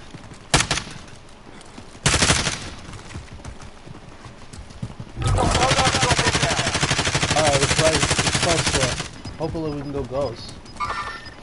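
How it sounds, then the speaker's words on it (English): Gunfire in the video game Call of Duty: Warzone, a few sharp cracks early on followed by a long sustained burst of rapid automatic fire, with a voice speaking over the action. "I hear gunshots on the right side of me."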